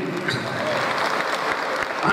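Audience clapping at a political meeting announcing a new platform for backward classes, a continuous wash of applause from a large crowd, with a faint voice mixed in underneath.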